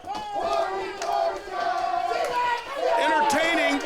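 Wrestling crowd cheering and yelling around the ring at a Mid Atlantic Territory Wrestling event, a loud, continuous roar of voices with excited shouts rising and falling.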